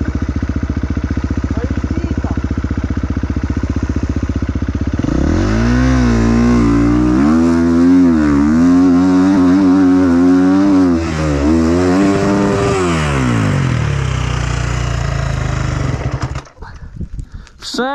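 A KTM 250 four-stroke motorcycle engine idles steadily, then revs up through rising and falling pitches for several seconds before the roar cuts off abruptly near the end.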